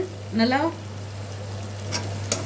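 Ground onion and green chili paste frying in oil for chicken biryani, a soft continuous sizzle over a low steady hum, with a short voice-like sound early and a couple of sharp clinks toward the end.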